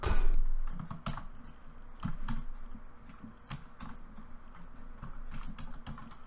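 Typing a search on a computer keyboard: a quick run of sharp, irregular key clicks and taps, close and fairly loud, clustered in short bursts over a faint room hum, with no talk.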